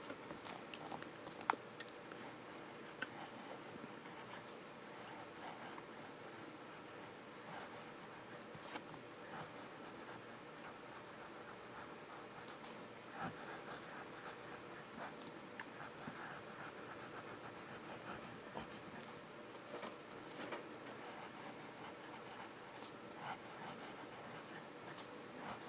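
A water buffalo horn fountain pen with a fine nib writes on paper, making quiet, continuous close scratching and rubbing strokes with faint small taps.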